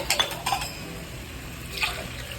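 Water splashes and trickles in short bursts into a cooking pot of prawn biryani, with a faint clink of metal, close by and fairly quiet.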